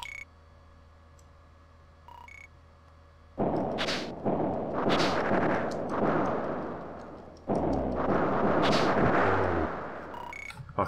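Gunfire in a video game, several sharp loud bursts in quick groups over a low hum, with short pauses between volleys.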